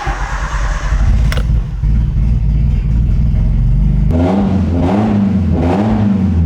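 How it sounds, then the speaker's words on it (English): A Nissan S13 engine, running with no exhaust fitted, idles with a loud raw clatter, then revs hard twice in quick succession, rising and falling sharply, close by. "I think we need to fire it up with no exhaust."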